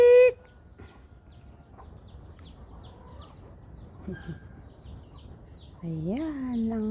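Red junglefowl cluck and call in short bursts, with a loud harmonic call at the start and another near the end over faint background sounds.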